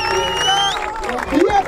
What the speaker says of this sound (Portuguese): uma salva de palmas pra nossa DJ!